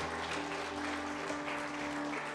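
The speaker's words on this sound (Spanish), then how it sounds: "Dale un aplauso al Señor Jesús." Steady applause from a church congregation at a Sunday service, continuous and fairly even, with a sustained organ or keyboard tone held underneath.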